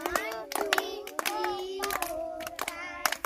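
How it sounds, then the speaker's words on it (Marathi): Schoolchildren clap in unison for a tenth birthday, a steady series of sharp, close hand claps mixed with children's voices. "आपण तिला 10 टाळ्या वाजवायच्या आहेत"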